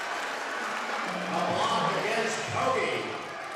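A home crowd roars and cheers in a high school boys' basketball gym right after a foul is called, a steady loud wash of voices with a couple of swells.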